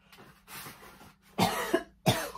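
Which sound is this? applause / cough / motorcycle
cough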